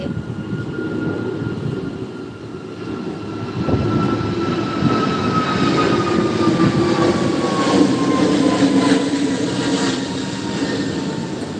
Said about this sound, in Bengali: এই যে আকাশে দেখো প্লেন যাচ্ছে